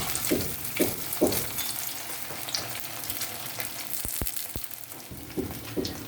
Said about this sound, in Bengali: তেল গরম হয়ে গেছে, এবারে আমি এগুলো আস্তে আস্তে ছেড়ে দেবো